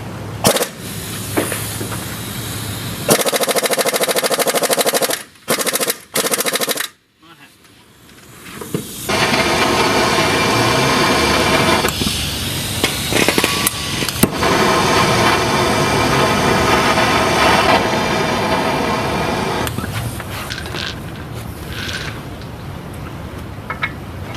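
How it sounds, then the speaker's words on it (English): Pneumatic impact wrench working a tight wheel hub bolt loose on a Duramax truck during a front wheel bearing job, loud sustained hammering bursts with short pauses and a brief cut-off before resuming in long runs. "Trying to get the top one off now with an impact."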